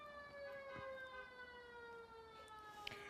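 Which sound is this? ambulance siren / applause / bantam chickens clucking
ambulance siren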